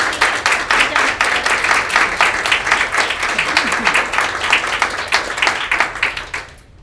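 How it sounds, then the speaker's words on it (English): An audience applauds at the close of a booktalking presentation, with dense, steady clapping that holds for several seconds and then tapers off at the very end. "I would like to just give a big round of applause to Katie and Melanie"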